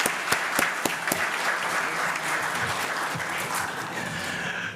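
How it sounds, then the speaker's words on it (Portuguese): Guests applaud at the Top of Mind Mercado Comum Marcas de Sucesso awards ceremony in Minas Gerais, opening with a few sharp claps before swelling into sustained, even clapping from a large room. "por favor, uma salva de palmas."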